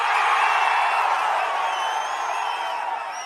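A large crowd at a political election campaign rally in Panruti, Tamil Nadu, roars and cheers continuously, with scattered whoops and whistles over a dense, loud wall of voices that eases slightly toward the end.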